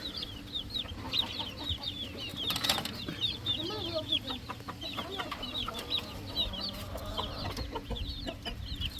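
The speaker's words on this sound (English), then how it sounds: "And the chickens will come and eat the old food." Chickens fed chick starter at a backyard feeder, with frequent clucks and chirps repeating throughout, mixed with wing flaps and scratching close by over a steady background.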